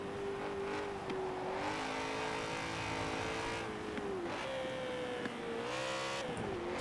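A BMW M3 GTR race car in Forza Horizon 4 holds a steady engine drone that rises and dips with the throttle across the whole stretch. It is loud and continuous, with faint tire noise underneath.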